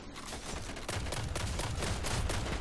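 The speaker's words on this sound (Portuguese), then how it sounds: "Você viu que o tiroteio é insano, né?" Dense, continuous gunfire from many directions in a Destiny firefight during a raid-style mission, loud and sustained with overlapping bursts and no pauses.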